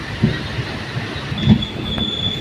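Passenger train braking slowly into Khijadiya junction in rain, metal wheels squealing in a thin sustained whine over rumbling, clanking carriages, with a couple of louder knocks and a brighter screech toward the end.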